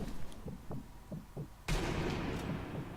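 Gunfire from the Sniper Elite V2 video game: a single sharp, loud rifle report cracks out near the end after several faint, dull thumps, with no talk.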